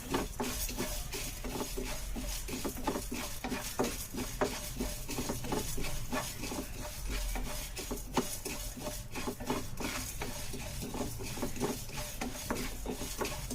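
Spices for vathal kuzhambu are stirred and dry-roasted in a pan, with continuous scraping and clinking of the spoon against the metal over a steady background hiss, alone without talk.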